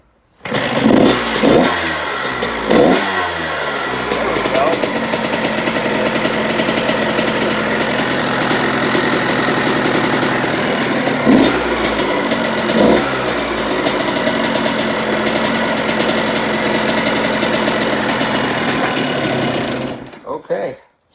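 A cold 1998 Kawasaki KX 125 two-stroke fitted with a Lectron carburettor fires on the kick start with a few sharp revs, then settles into a loud, close, rapid ringing idle until it cuts off at the end.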